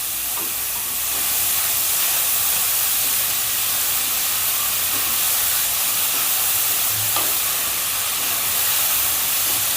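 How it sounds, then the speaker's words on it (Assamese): Grated carrots frying in ghee in a pan over a high gas flame make a steady, loud, broadband sizzling hiss with occasional soft stirring clicks, heard alone without talk. "গোটেইখিনি গাজৰ দি দিলোঁ, আৰু এতিয়া মই এইখিনি ভাজি ল'ম"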